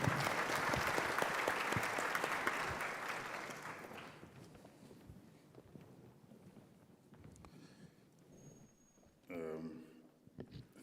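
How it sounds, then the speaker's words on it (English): Conference audience applauding at the BioAfrica Convention opening plenary, loud clapping for the first few seconds that thins and fades out, followed by quieter room noise and brief speech. "So a round of applause for him."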